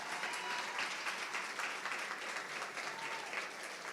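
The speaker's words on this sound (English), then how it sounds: "Round of applause for Duncan." A commencement crowd at a state community college applauds in a steady, even wash of many hands, quite faint and distant throughout with no voices over it.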